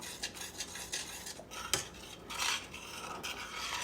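A metal spoon stirs southern white gravy in a pan, making a quick series of close scraping and clinking strokes against the metal, with no voices.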